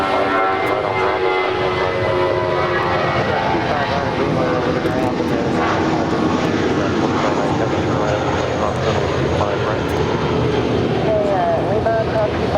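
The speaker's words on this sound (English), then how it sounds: "That is Spirit Wings flight 953 departing to Detroit. It's an A320." Spirit Airbus A320 jet departing Los Angeles International Airport, a loud continuous engine roar filling the whole stretch, steady and fairly near.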